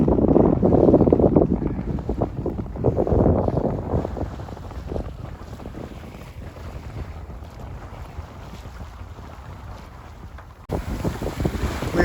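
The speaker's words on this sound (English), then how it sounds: "We're sailing now in lovely conditions, just over 10 knots of wind" A sailboat beats close-hauled in just over 10 knots of breeze on a passage between East Tarbet Bay and Whitehaven, with steady wind rush buffeting the microphone and water washing along the hull, louder at first and then settling.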